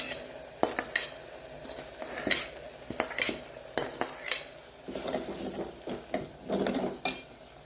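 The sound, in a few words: sautéed turkey berries added to cooked dal for sambar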